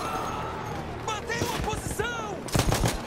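Gunfire in Battlefield 1 on PS4, scattered shots and impacts mixed with other game effects, ending in a louder cluster of bangs, while someone talks excitedly over it.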